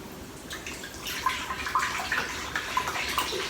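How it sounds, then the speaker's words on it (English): Milk poured into an Instant Pot for Greek yogurt, a steady liquid splashing and trickling into the metal pot, close and fairly quiet, growing slightly livelier toward the end. "we take the milk and pour it into the Instant Pot"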